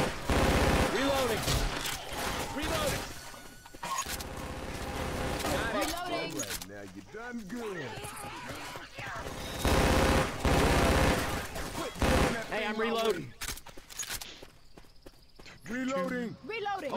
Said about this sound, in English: this gun I'm using now, I think it's the Uzi, but it's modded as the gun in Titanfall